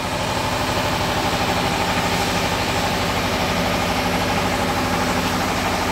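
An old Vespa scooter, a late Japanese-market model owned by an elderly rider and used for trips to the rice fields, idles steadily with a rapid, even engine pulse and constant vibration throughout, close and loud with no talking.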